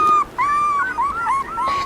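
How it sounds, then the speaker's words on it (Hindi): An old dog whimpering and whining in a series of high, drawn-out cries, close and fairly loud, repeating about five times with short gaps. "उसकी कुत्ते की आवाज़ तुझे सुनी होगी"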